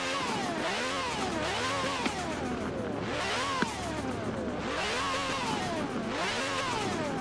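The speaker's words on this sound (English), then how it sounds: "this is probably the easiest car to hear the twin turbos on" A twin-turbo car engine in Forza Horizon 4 revs in repeated rising and falling sweeps, about five cycles, loud and close with a steady rhythm and no voices.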